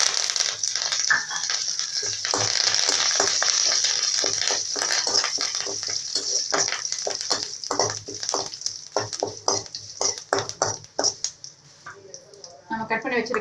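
Curry leaves and fennel seeds sizzle in hot oil for a Tamil raw banana fry, a steady bright crackle with stirring clatter, while a voice talks over it and the frying fades near the end.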